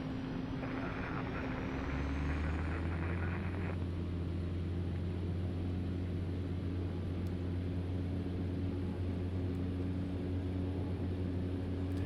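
A Cessna Caravan turboprop in a flight simulator spools up toward takeoff power, a steady engine drone whose low hum rises and settles into a sustained roar, with a high turbine whine above it and no voices.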